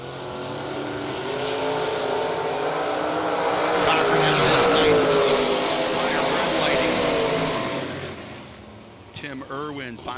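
Drag race cars roar down the strip at a Working Man's $10 Grand bracket event, Tim Irwin and Gary Cochran paired, a sustained loud engine wail swelling and fading over several seconds before brief announcer talk at the end.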